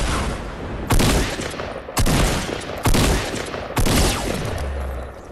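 Loud gunfire in a shooter video game: four bursts of rapid automatic fire, each roughly a second long, separated by short gaps, close and with no talking.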